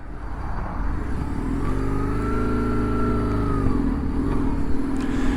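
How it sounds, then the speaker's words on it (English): An old classic 850R motorcycle engine running, a steady close idle that swells into a smooth rising and falling rev before settling back to a rumbling idle, with no voices. "At least this one started all right for an old classic 850R."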